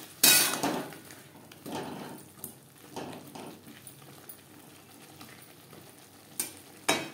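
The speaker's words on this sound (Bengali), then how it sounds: "কাঁচা গন্ধ যাওয়া পর্যন্ত নাড়াচাড়া করে নেব।" Spices are stirred in a cooking pan while a fish curry with potato and green plantain is made, giving soft scraping strokes and a few sharp clinks of the spoon against the pan, faint and intermittent.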